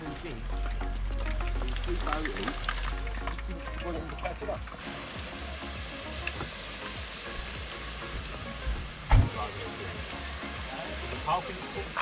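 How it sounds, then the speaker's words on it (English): Fish and chips fry in oil at a camp on a bison farm in Wiltshire, a steady hissing sizzle running throughout beneath people talking, with a few louder knocks and clatters near the end. "Fish and chips cooking round camp."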